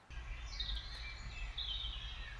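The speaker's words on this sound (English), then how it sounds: "I'm going to play a small snippet of birdsong" A bird sings a thin, high warbling phrase that rises and falls, heard faintly over a low background hum.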